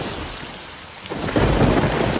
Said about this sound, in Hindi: 2-4 दिन लगातार बारिश होती रही।